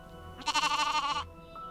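A sheep bleating once, close and loud, a wavering nasal cry of under a second over a low hum, with no talking.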